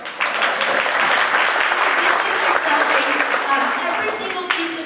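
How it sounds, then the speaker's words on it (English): A high school audience at a cafe concert claps loudly for the choir, dense sustained applause with some voices mixed in. "You should clap for them."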